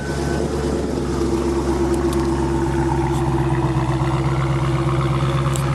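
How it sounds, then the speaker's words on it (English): A 2015 Dodge Challenger SRT-8 392 sits idling, its exhaust giving a steady, loud, low burbling rumble with an even throb, heard up close with no one talking. "You can just hear that exhaust sound."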